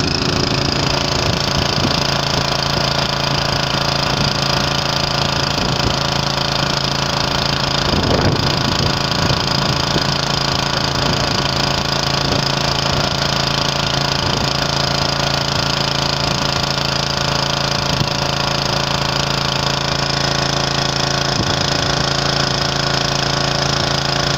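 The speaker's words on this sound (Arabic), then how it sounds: "هذه عملية ضرب ترومبة مياه للحصول على مياه" A steady engine drone runs throughout with rhythmic mechanical knocking and clanking as an engine drives iron pipes into the ground for a groundwater pump well, loud and close, with no talk.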